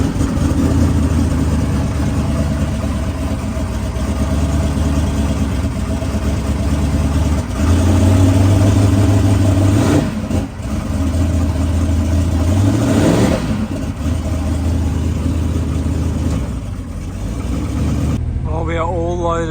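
A truck engine cranks and starts, then settles into a loud, steady idle that rises briefly as it revs, close up, with people talking over the engine noise.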